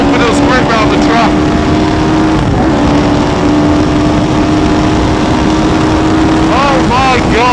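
A Westfield sports car with a Hayabusa motorcycle engine screams around a race track at a track day, its loud, continuous high-revving drone heard from inside the car with a voice talking over it.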